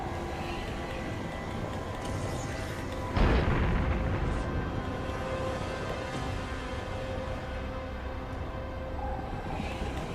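Heavy boom from a bomb explosion in Darksiders III, a single loud blast about a third of the way through that rumbles and fades over a continuous game soundscape.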